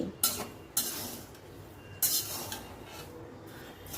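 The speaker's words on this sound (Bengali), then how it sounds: "নেড়ে নেড়ে চিড়েটা আর লবণটাকে খুব ভালো করে ভেজে নিতে হবে" Flattened rice (chira) is stirred and roasted in hot salt in a pan, giving a soft continuous grainy rustle with a few sharp scraping clicks of the spoon against the pan, close and fairly quiet.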